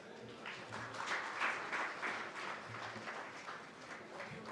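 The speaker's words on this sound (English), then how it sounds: "I request all of you to please give her a big round of applause." A large audience applauding to welcome Nara Bhuvneshwari at the NTR Trust 29th Foundation Day celebrations: faint, distant, continuous clapping that rises and falls gently, with no talk over it.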